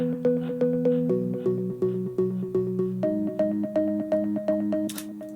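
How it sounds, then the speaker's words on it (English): Organ bass from a Korg M1 house split preset, punchy stabbed chords in a bouncing repeated rhythm, each note decaying quickly, shifting pitch partway through, alone and upfront in a house remix. "For the bass, I used a organ bass for that one."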